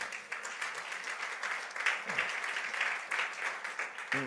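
A church congregation applauds and cheers together in a steady, sustained wash of clapping with occasional louder bursts and voices rising through it, moderately distant, lasting throughout.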